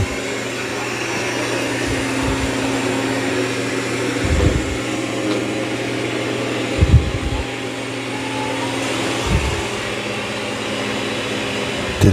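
An X40 robot vacuum cleaner running at high suction across a carpet, a loud continuous whirring drone with a few brief low thumps as it moves, no voices.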